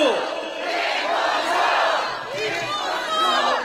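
A large crowd at a Korean election campaign rally roars and shouts in unison, loud and sustained with rising and falling waves of cheering, close and filling the space.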